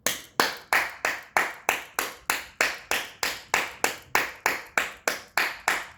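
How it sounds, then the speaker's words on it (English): One person claps alone in a steady, evenly spaced rhythm, about three sharp claps per second, close and clear with short decays and no talking over them. "I had to give my spirit team a motherfucking round of applause tonight."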